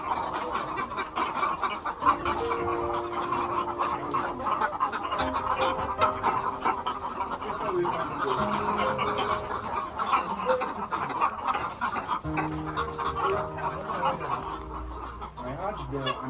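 Chickens cluck in a farm setting, a steady busy murmur of many fowl running the whole time, with a person talking over it.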